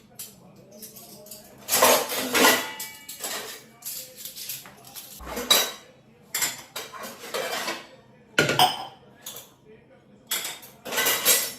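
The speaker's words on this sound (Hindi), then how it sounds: "सबसे पहले मैं धुले हुए बर्तन ऑर्गेनाइज़ कर लूँगी" Washed dishes and utensils clatter and clink in repeated bursts as they are organized, steel pots and spoons set down and shuffled nearby, with short pauses between.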